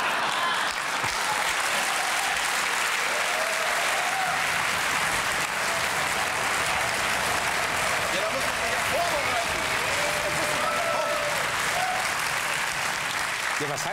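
Studio audience applauding on a German late-night comedy show, a dense, sustained wash of clapping that fills the whole stretch at steady loudness.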